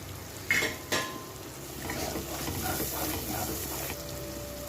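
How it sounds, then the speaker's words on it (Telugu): A spice masala paste for mutton curry fries in oil in a pan, giving a steady soft sizzle with a couple of sharp stirring clinks near the start, with no talk. "ఇలా ఆయిల్ పైకి వచ్చిన దాకా మసాలా వేయించుకొని"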